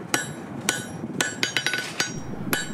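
A hammer strikes hot wrought iron held at forging temperature, sharp metallic blows landing irregularly, some in quick clusters, each ringing briefly; loud and close in a blacksmith's shop, with no voices.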